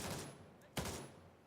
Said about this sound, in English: Shot him twice in the neck, 2 times in the chest, and once in the abdomen.